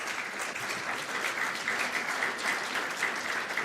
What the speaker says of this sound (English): a round of applause for all the speakers